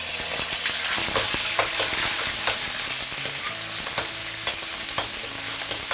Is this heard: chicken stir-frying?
yes